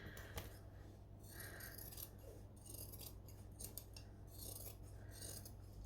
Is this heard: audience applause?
no